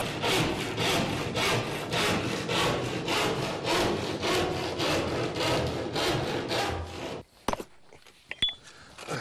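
Wooden joist ends being sawn through during a bungalow renovation: a steady, loud run of rhythmic back-and-forth strokes for about seven seconds, then the sawing stops and only a few faint knocks and rattles follow.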